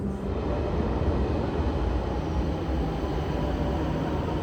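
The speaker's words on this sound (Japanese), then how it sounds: "地下鉄で数駅移動します。" A Milan metro train rumbles along underground, a loud, continuous low roar and rattle of wheels on track that holds steady from start to finish, with no voices.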